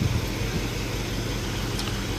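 A running Chevy engine with its cooling fan turning, heard from up close beneath the car as a steady, even whir and rumble with no pauses and no voices.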